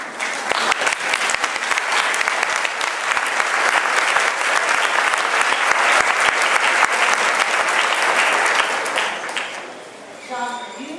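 Applause at a state judiciary committee public hearing on a bill banning shark finning. An audience claps loudly and steadily for about nine seconds, then it dies away and a faint voice follows.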